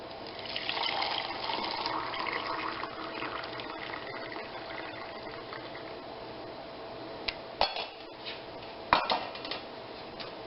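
Potato water poured into a jar, a steady trickling pour close by, followed by a few clinks of glass or utensils near the end.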